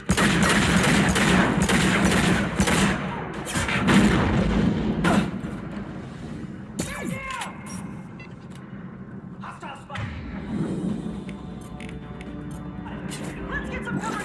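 A Mass Effect 2 gun battle, with heavy bursts of gunfire and booming impacts that are loud at first, then thin into scattered shots, while people talk and shout throughout.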